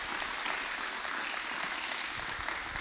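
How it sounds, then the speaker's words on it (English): Audience applause at a school Biography Day event, a dense, even patter of many hands clapping at steady moderate loudness throughout, with no talking over it. "another round of applause for everybody"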